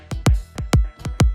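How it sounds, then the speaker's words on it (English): A punchy, deep slap house kick drum hits six times in a steady, tight pattern, each thump loud and booming with a quick decaying tail, heard alone. "This is the main kick."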